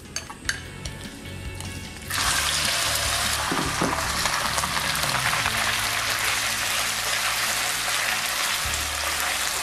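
Marinated pork strips hit a very hot wok on high heat, breaking into a loud, steady sizzle and hiss that carries through to the end, with a few clinks of utensils just before.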